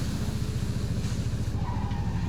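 A vehicle engine in PUBG runs steadily with a low, continuous rumble and a faint tone rising near the end, close and unbroken throughout.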